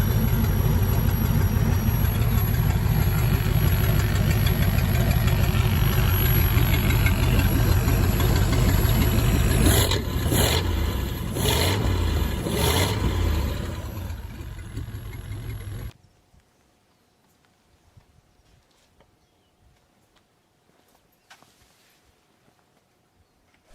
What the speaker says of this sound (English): The 1912 2 HP Root and Vandervort hit-and-miss engine is a classic example of early 20th century stationary internal combustion technology